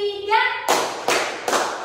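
A group of teachers in a training session claps in unison three times, three sharp evenly spaced claps following a brief spoken call.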